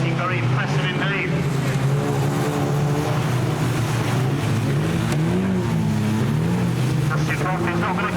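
1600cc production race cars running on the Standlake track at a season opener, a steady roar of engines with rising and falling tones as cars pass, continuous throughout without talk.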